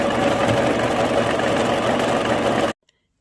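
A sewing machine runs steadily as it stitches stretched elastic into wide-leg trousers, a continuous close whirring hum that stops abruptly near the end.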